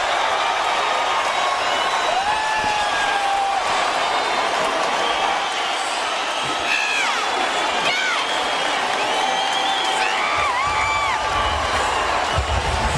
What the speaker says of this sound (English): Listen to the reaction of this crowd.